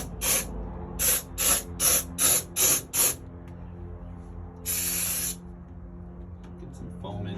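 A spray foam gun fires insulation foam onto the steel wall of an enclosed trailer in six short hissing bursts, then one longer spray after a pause, close and fairly loud.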